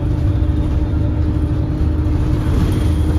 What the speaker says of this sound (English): our bus is squeezing down the narrowest of country lanes